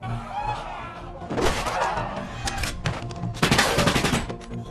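Film scene with gunfire: loud, dense bursts of shots and impacts over a rumbling, busy soundtrack, two heavy volleys standing out amid chaotic noise.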